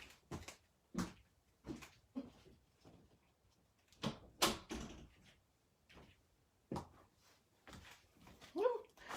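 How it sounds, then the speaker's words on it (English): An indoor room door shut during a live session, heard as several short thumps and knocks spaced across the moment, close by, mixed with brief bits of a voice talking. "One sec, let me close my door."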